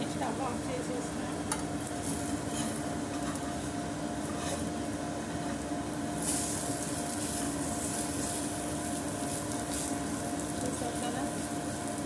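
An omelette frying in a pan on a stove, a steady dense sizzle that runs unbroken throughout with a few faint clinks, while a person talks briefly over it.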